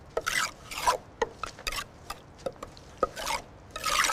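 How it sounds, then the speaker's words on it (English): A plaster float tool rasps across a stair riser during mansion restoration, heard as a series of short, uneven scraping strokes with small knocks between them, moderately close and with no talk. "I'm using the float tool now"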